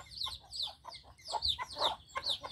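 Free-range painted mil flores chickens, a heavy rooster among a flock of hens, clucking in a steady run of short calls, close and moderately loud over a low background hum.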